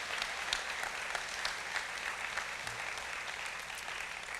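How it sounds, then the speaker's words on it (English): A crowd claps steadily at a State of the Nation 2018 gathering, a fairly quiet, even round of applause heard from some distance with no speech over it. "Let's give them another big round of applause for doing that."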